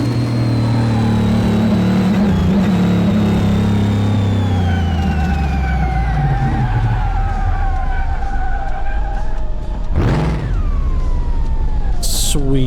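A 1966 Chevy C10 engine in the game Car Mechanic Simulator 2018, roaring loud and close with rising and falling revs as the tires spin, then a sharp swooping burst near the end.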